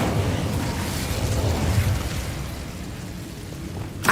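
Incendio fire spell cast in the game Hogwarts Legacy: a sustained whooshing roar of flame, fairly loud and steady, that fades slightly before a brief crackling pop at the end, with no talking.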